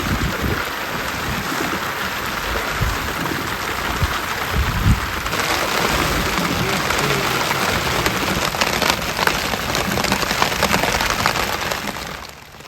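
Heavy rain pours down in the Sundarbans mangrove forest, a dense, continuous hiss of drops striking surfaces that swells slightly midway and carries on with no talking.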